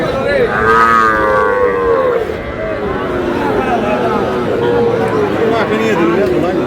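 Sahiwal cattle mooing loudly and close at a livestock market in Dinajpur, long drawn-out lows overlapping amid a busy crowd with people talking in the background.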